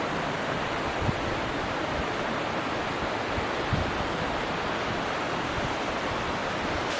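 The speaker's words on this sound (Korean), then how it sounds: "이 앞에 보이는 게 오련폭포입니다." Oryeon Falls, a chain of five waterfalls in Cheonbuldong Valley on Seoraksan, rushes as a steady, loud broadband roar with a few faint thuds mixed in.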